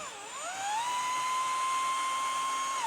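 A power drill winds up and holds a steady, high whine while driving a screw into a kitchen cabinet, close and alone for a few seconds.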